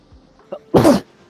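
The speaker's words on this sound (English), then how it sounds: "I'm starting to have dad sneezes." A single loud, close sneeze bursts out sharply, preceded by a small catch of breath, in an otherwise quiet indoor setting.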